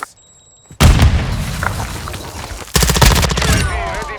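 Rapid bursts of automatic gunfire from a Call of Duty: Modern Warfare II firefight, loud and close, stopping briefly then resuming in a second dense volley with faint ringing tails.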